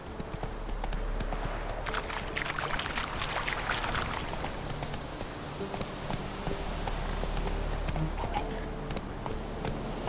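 Roach, the horse in the video game The Witcher 3: Wild Hunt, gallops in a steady, rapid hoofbeat rhythm that runs throughout, with clattering and rustling over a low game rumble.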